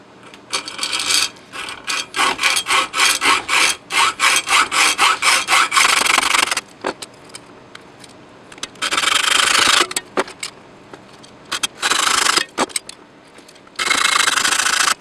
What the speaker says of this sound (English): I've got a piece of that 1-inch aluminum square tubing, and just gonna cut a piece off